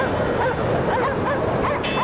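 Sled dogs in the Cryostasis video game give a run of yips and whimpering barks against a constant droning background, with a brief higher burst near the end.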